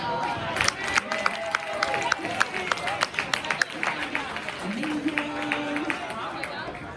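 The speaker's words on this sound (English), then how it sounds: "Let's give a big round of applause for Dina." An audience at a talk applauds the speaker Dina, a room full of scattered clapping with crowd chatter and voices mixed through it.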